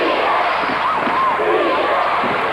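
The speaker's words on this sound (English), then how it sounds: "Crowd here howling defense." A college men's basketball crowd, IPFW against TAMCC in 2004, chants and howls for defense in a loud, sustained roar filling the arena.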